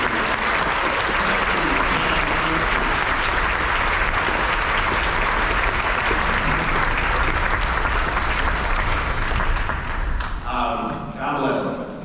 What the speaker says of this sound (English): let's give a big round of applause right now for the band directors and music educators